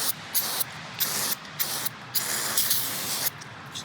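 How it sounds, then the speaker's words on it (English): Brake cleaner sprays onto a Jeep Wrangler Rubicon rear sway bar in a series of short hissing bursts, some brief and some held longer, close and loud. "So let's just clean it off with a little brake cleaner."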